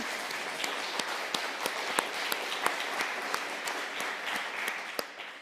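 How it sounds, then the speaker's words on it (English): Audience applause at a community event on homelessness: steady clapping from a crowd with sharp individual claps standing out, sustained at an even level for several seconds before tapering slightly at the end. "That one also deserves a clap"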